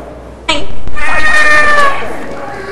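A person imitates a cat's meow in the game Team Fortress 2, a loud drawn-out mewing voice that starts abruptly and trails off.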